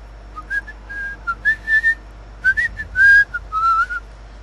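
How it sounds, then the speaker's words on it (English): Someone whistles a tune solo in short melodic phrases, loud and close, with gaps between notes over a low steady background hum. "Time for some more whistling."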